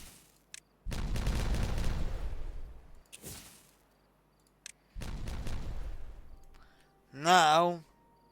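Dynamite detonations in the beaver colony game Timberborn, several deep rumbling blasts in separate bursts, each a few seconds long, followed by a short tonal game chime.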